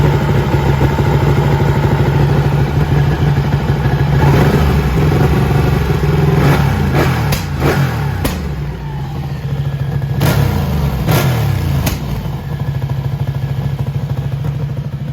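A motorcycle engine, running hot near overheating, idles with a steady low throb, then is revved in several sharp bursts that rise and fall back to idle.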